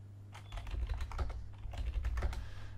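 A login password is typed on a computer keyboard as a quick, uneven run of close key clicks over a low steady hum, with no talking.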